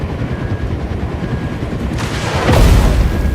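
Rumbling helicopter-like drone with a sudden loud burst of explosive, rapid missile firing near the end, in the video game RV There Yet.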